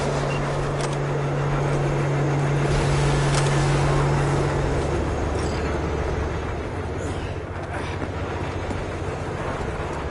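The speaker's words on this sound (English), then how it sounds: "All right, the train's leaving." A train pulls away in a PS4 video game, a steady loud rumble of rolling wagons with a low tone fading partway through, constant for ten seconds with no speech.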